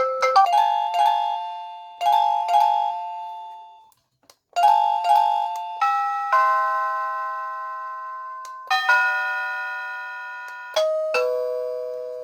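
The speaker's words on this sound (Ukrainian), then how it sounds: "Це хтось в двері подзвонив" A wireless doorbell, model M520+F55, plays a series of bright electronic chime melodies, each ding-dong phrase decaying before the next, with several different tunes in sequence and a short gap midway.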